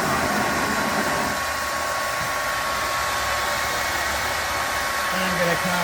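A hair dryer blows steadily on a freshly thrown clay bottle sitting on a pottery wheel, a continuous loud close-up whoosh that holds unbroken to the end.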